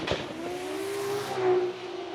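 A Toyota Supra drift car engine revs loudly at the start line during Formula Drift qualifying, with a brief sharp burst at the start, then a sustained whining drone, with hints of tire squeal.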